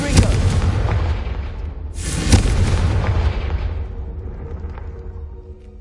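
Two Confringo blasting-curse explosions in Hogwarts Legacy, a sharp booming blast followed about two seconds later by a second, each rumbling and fading into a long, decaying echo.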